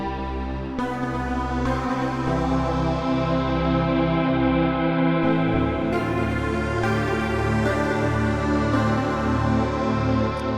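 Zebralette 3 software synth playing custom imported single-cycle waveforms, a dense buzzy sustained tone with rich harmonics, shifting timbre and pitch across several held notes, loud and continuous with no talking.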